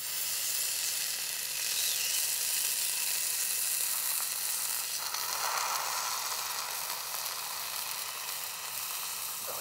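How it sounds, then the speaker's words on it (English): Burning flesh during torture gives a continuous, loud, close sizzling hiss that crackles like frying and stays steady for the whole stretch, with no voices. "You'd be able to hear yourself burning"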